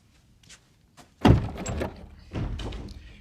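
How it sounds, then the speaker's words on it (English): A door is pulled open nearby, with a couple of faint taps, then a solid thunk and scraping slide of the door, followed by a softer second rumble as it moves further. "You have to pull the door open."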